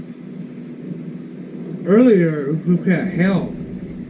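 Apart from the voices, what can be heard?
thunderstorm with rain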